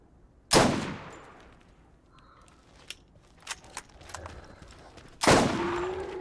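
Two loud, sharp sniper rifle shots from the video game Borderlands, spaced several seconds apart, each ringing out with a long tail, with lighter clicks and small gunfire pops scattered between them.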